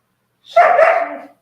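One short, sharp bark from a nearby dog, loud and clear against silence.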